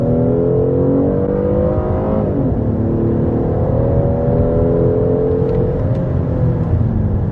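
A 2021 Hyundai Azera with an eight-speed automatic and front-wheel drive accelerates hard, its engine note climbing steadily in pitch, dropping at a gear change, then rising again. The sound is loud and continuous from inside the cabin, with no talking.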